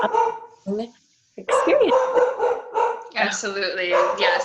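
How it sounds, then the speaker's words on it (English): A pet dog barks and yips indoors in a home-office setting, loud and close, in short bursts mixed in with someone talking. "And I apologize for my dog."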